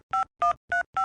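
Four evenly spaced touch-tone beeps as a phone number is dialed, each a short, clean dual-tone press with brief silent gaps, close and clear with no voices.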